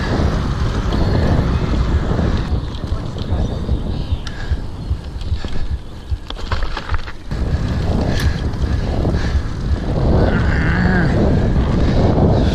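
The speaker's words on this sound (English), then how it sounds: "Fucking wind." Heavy wind buffets the microphone during the bike leg of a triathlon, a loud continuous low roar with gusty swells and some rattling.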